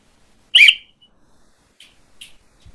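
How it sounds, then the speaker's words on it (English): One short, sharp whistle blast, loud and close, at an improv comedy match, followed by a couple of faint, brief chirps in otherwise quiet surroundings. "listen out for my whistle."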